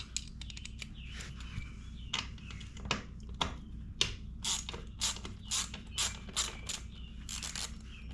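A ratchet with a 10 mm socket works on a 2022 Yamaha R7 motorcycle during an oil change, making close, quick clicking bursts that grow more regular toward the end, with no talk.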